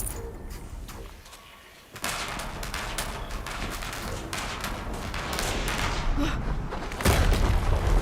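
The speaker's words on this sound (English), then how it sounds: "Another explosion." An explosion in Horizon Zero Dawn on PS5 bursts in with a heavy boom, then a dense crackling rumble of debris and gunfire-like blasts swells, ending in another deep impact.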